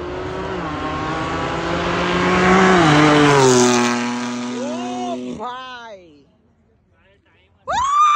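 A car engine at the Amby Valley Run 2024 summer car event revs loudly with rising and falling pitch, then fades as it pulls away; after a quieter gap another engine roars up close.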